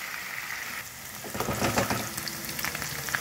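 Paneer frying in oil in a pan with a pinch of turmeric, a close, crackling sizzle that grows louder and busier halfway through, with no talking.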